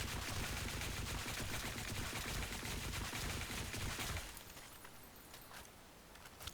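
Rifle fire in the video game CS:GO, with rapid crouched tap shots and then full-auto bursts, dense and loud for about four seconds before it cuts to quieter game ambience.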